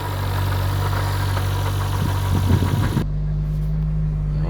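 A 1974 first-generation Honda Civic engine runs on choke with a steady, loud, close idle hum and a few uneven knocks before it cuts out, leaving a lower residual drone.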